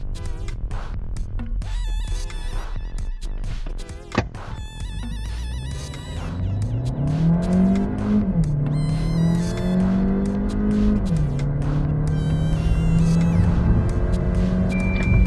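A 2026 Kia Sportage with a 1.6-litre turbo engine accelerates hard from 0 to 100 km/h, its engine note climbing steadily with a couple of gear shifts and tyre and road noise filling the cabin.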